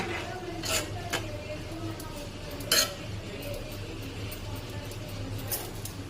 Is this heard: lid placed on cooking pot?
yes